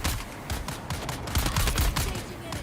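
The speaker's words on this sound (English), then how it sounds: "Let me have a go at shooting then." Rapid automatic gunfire from a video game crackles in quick bursts, loud and close, with a dense fusillade of shots and heavy low thumps running the whole time.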